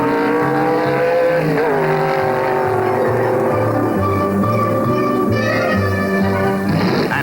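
A 1962 Pontiac running A-Stock automatic at the 1963 NHRA Nationals drag races, its engine roaring loud and sustained with rising pitch as it accelerates, other engine tones layered in, continuous throughout.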